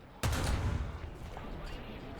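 Tank machine gun fire in War Thunder opens with a sudden loud burst of rapid shots followed by a rattling, sustained stream that gradually softens.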